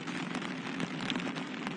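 Heavy rain pours steadily at Manchester Airport, a dense, continuous hiss of drops drumming on hard surfaces, close and unbroken with no voices over it.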